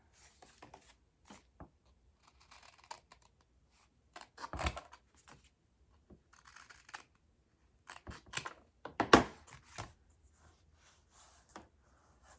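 Scissors cutting a corner off a sheet of paper, sparse quiet snips and papery rustles spread irregularly, with a few sharper crisp cuts standing out among soft handling sounds.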